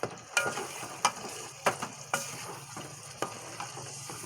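Chicken with yogurt and spices frying in a pan and being stirred briskly, with sharp scraping clacks of the spoon at a quick irregular rhythm over a soft sizzle, fairly quiet.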